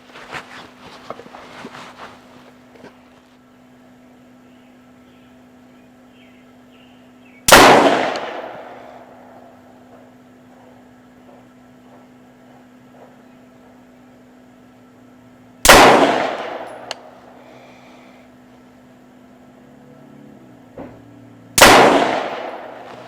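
Three loud rifle shots fired downrange at a target outdoors, each a sharp crack with a decaying echo, spaced several seconds apart, with quieter handling noises and a faint steady hum between them.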